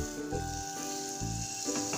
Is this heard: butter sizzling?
yes